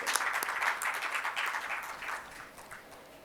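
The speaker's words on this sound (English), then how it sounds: "Please give a big round of applause for them, all of them." Steady crowd applause fills the space, many hands clapping at once, strong at first and gradually tapering off.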